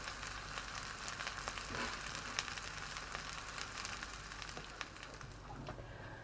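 Pitta bread frying in a pan over medium heat, a quiet steady sizzle with faint crackles and pops scattered throughout.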